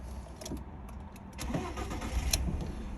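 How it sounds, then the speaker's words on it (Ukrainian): A 2006 Seat Ibiza car engine cranks and catches, settling into a low idle rumble, heard close and fairly quiet with a few clicks. "Зараз заведемо автомобіль."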